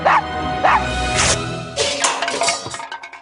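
Sparky the dog gives a few sharp barks and yips close by, with whimpering between them and a busy background underneath.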